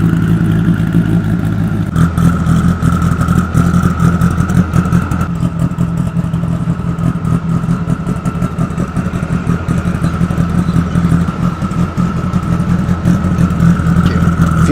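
A twin-turbo ACR Viper engine runs steadily on a dyno with a loud, dense drone and clatter, holding a sustained note that shifts once early on.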